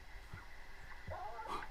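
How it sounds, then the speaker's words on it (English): Faint, thin whimpers and soft yips from a puppy playing on a screen, a few short cries over steady background hum, distant and quiet with no talking. "There's a puppy on a video."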